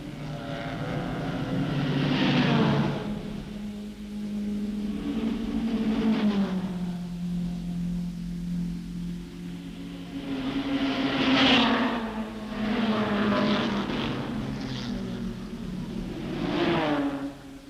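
Triumph Spitfire race cars on the 1964 Tour Auto in France run together, engines droning and rising and falling in pitch as they pass, a steady loud roar that swells and fades twice over the stretch.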